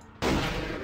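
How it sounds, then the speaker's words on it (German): A shotgun fires in the video game Vampire the Masquerade: Bloodlines, one sudden loud blast after a short quiet gap, with a long rumbling tail that fills the rest of the moment. "Schrotflinten sind einfach awesome"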